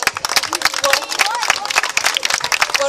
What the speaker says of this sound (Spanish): Denle un aplauso a ellos también